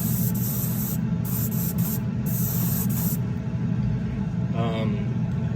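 Primer sprayed in light misting passes onto a CXT bed, a steady close hiss over a low rumble with brief gaps between passes.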